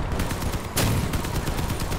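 Loud, rapid gunfire in the vehicle combat game Crossout, with one heavy cannon blast partway through a steady stream of shots.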